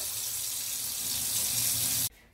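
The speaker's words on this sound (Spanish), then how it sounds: "Y así al fregadero, con agua fría, no hace falta que tenga temperatura" Cold water from a kitchen tap pouring into the sink in a steady, loud hiss close by, then cut off abruptly near the end; no one speaks.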